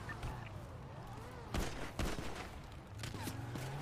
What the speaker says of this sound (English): I'm getting shot from the woods